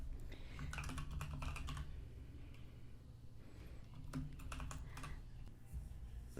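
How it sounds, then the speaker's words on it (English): Quick bursts of keyboard typing, clicking keys in clusters separated by short pauses, close and fairly quiet. "we're going to start typing."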